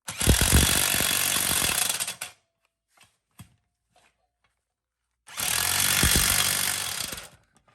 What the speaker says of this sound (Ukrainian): Зараз, як ви бачите, гайковертом от таке